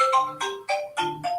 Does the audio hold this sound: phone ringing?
yes